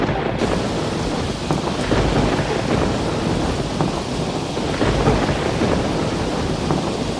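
Steady rain pours down at night with distant rumbling thunder, a dense, even hiss that stays loud and unbroken from start to finish.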